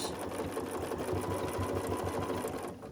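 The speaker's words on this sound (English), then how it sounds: "And then we will sew it, back stitch," Sewing machine back stitching a quilted Christmas stocking with binding, a loud, close, rhythmic whirr of rapid stitches running steadily before cutting off at the end.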